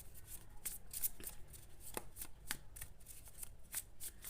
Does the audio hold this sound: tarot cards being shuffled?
yes